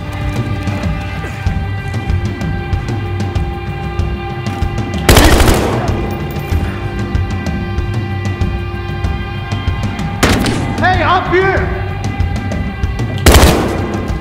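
Gunfire in the Battlefield Hardline video game: steady rattling automatic fire over a droning background, punctuated by a few loud sharp bursts and impacts, with no talk.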